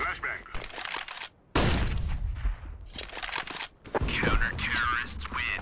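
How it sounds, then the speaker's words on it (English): Flashbang bursts and rapid gunfire from the video game CS:GO, loud, abrupt cracks and volleys breaking up the clip, with players talking over the action. "We don't mess around with this stuff. Deploying flashbang."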